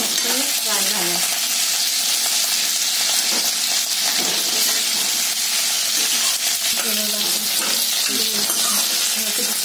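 Ivy gourd (tondli) fries in a pan with a steady, dense sizzle that continues throughout, close and fairly loud, with occasional stirring and clinks and no talking.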